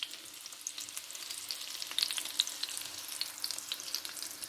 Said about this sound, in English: You see that sizzling?